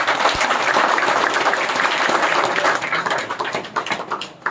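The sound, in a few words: clapping to welcome everyone at a meeting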